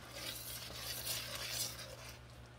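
A spoon stirs a thickening sauce in a pan, giving a soft, continuous scraping swish that is fairly quiet and steady, with no voices.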